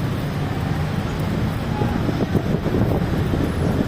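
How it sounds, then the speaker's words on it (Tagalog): Steady wind buffeting a microphone on an overpass, a continuous low rushing roar with gusts, and no clear speech on top. "mahangin dito"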